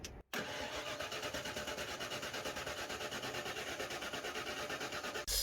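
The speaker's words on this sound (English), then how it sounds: "take a jumper and touch it to the starter solenoid here, just for a few seconds" A 1995 Ford F150 with a 5.0L V8 cranks steadily on its starter, jumped at the solenoid after an oil pump and pan replacement, giving a rapid, even churning rhythm for about five seconds without firing, close and loud.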